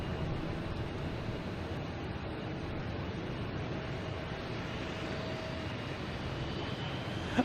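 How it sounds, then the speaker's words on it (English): A Boeing 747 airliner at Boston Logan Airport produces a distant, steady broadband jet roar, a faint continuous rumble with no distinct events. "That might be the 747."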